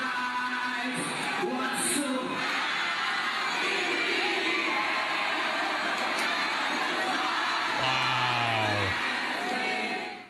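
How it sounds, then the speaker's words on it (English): A large crowd at a big game roars and cheers continuously, loud and dense, with whoops and yells rising out of the din. "Listen to the crowd."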